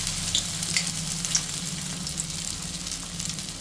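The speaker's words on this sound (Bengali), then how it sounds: "একটা একটা করেই ভাজবো" Lentil and rice fritters deep-fry in hot oil with a steady, bubbling sizzle and a few light stirring clicks, close up and without any talking.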